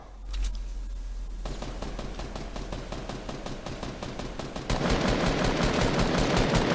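Rapid automatic gunfire from the video game Fortnite, a dense, steady stream of sharp shots that rattles on for several seconds and grows louder and harsher toward the end, with no voices over it.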